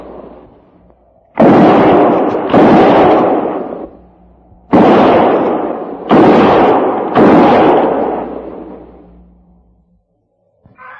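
Rifle volleys in a frontier radio drama, five loud, booming shots fired in two uneven clusters, each with a long rolling decay and no voices between them.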